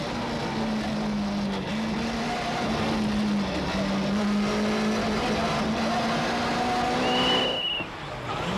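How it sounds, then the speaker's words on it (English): A BMW rally car holds full throttle on a long, flat straight in the Donegal International Rally, heard from onboard as a loud, steady engine drone with a sustained tone that rises slightly before dipping near the end. "Now enjoy that long, flat straight from inside the BMW."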